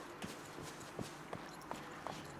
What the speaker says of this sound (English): if I just get on my horse and ride down here